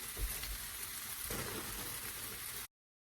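Peas tumble into a hot pan of frying mushrooms and zucchini for fried rice, making a steady close sizzle with a brief bump of the peas landing before the sound cuts off.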